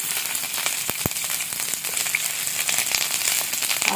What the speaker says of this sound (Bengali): এবার এই তেলের মধ্যে দিয়েছি পেঁয়াজ কুচি।